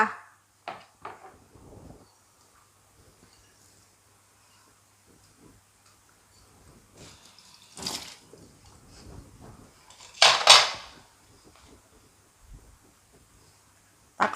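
Spicy Thai instant noodle salad (yum mama) being plated: a few sharp clinks and clatters of dishes, separated by long quiet gaps, with no talking.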